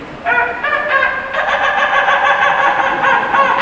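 A voice imitates a rooster crowing, one long drawn-out rising call with strong harmonic tone that holds steady and loud throughout, close and clear with no other talk.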